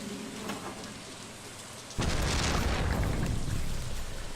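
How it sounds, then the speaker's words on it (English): Rain and thunder in the video game Stardew Valley: steady rain hisses at first, then a deep rumbling thunderclap surges in and the heavy downpour continues loud and close, with no voices. "Now I can hear the rain."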